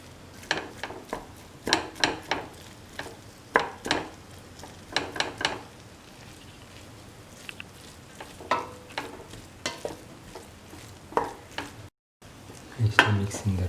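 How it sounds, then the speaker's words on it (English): Rice with bitter gourd and tomato is being stirred in a pan over a low flame. Repeated scraping strokes come in irregular bursts over a soft, steady sizzle, with a brief dropout near the end. "I still mix in the rice with the rest of the ingredients and let it cook for 3 more minutes under low flame"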